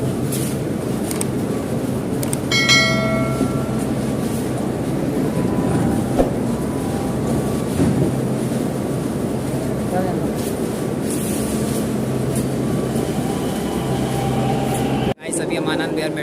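A Delhi Metro train at Anand Vihar station rumbles steadily with a constant low drone and mechanical hum, a few brief tonal whines and clatter, and people talking faintly in the background.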